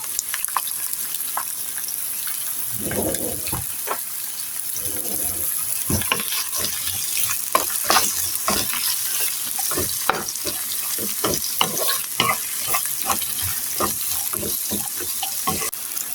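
Plenty of sliced onion and garlic fry in hot oil in a frying pan, a steady close sizzle with intermittent scraping and stirring clatters of a utensil against the pan.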